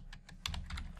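Rapid keystrokes on a computer keyboard as a file name is typed, a close, steady run of clicks with a few louder taps midway and no talking.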